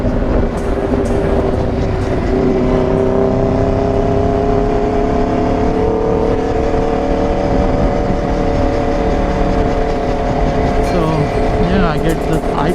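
An Aprilia RSV4 motorcycle engine runs loud and steady, with rising and falling revs droning throughout and wind noise, while someone talks over it.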